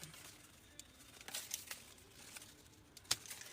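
Scissors cutting a paper template for florals, with scattered light snips and crinkles of paper, a few sharper cuts standing out, faint and close with no talking.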